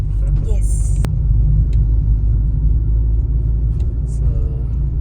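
A car grinds slowly up a very steep road through forest near Bandipur on the route to Ooty, giving a loud, steady low engine rumble and road noise from inside the vehicle, with people talking over it.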